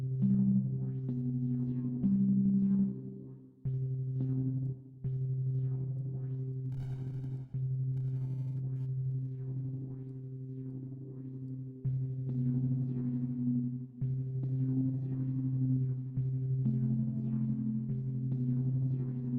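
Synthesizer tone with LFO modulation and added reverb, steady low sustained notes that pulse and shift in pitch over a long stretch, with brief stepped changes and a smooth reverberant tail, no voices.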